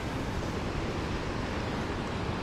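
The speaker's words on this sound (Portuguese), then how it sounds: "Porque o mar tá enchendo, ó, e tá brabo o mar, viu?" Rough, rising sea surf and strong wind at Boa Viagem beach in Recife: a dense, continuous roar of breaking waves and gusts, loud and close, with no voices.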